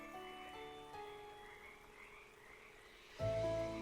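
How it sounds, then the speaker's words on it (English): Frogs croak in a steady chorus, soft and continuous, before a sudden louder burst of sound cuts in near the end. "No, frogs go ribbit."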